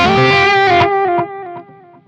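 Electric guitar run through the Governor drive effect on a Zoom G3Xn multi-effects processor with delay, playing a loud, gritty overdriven chord that rings out and decays with a few repeating echoes.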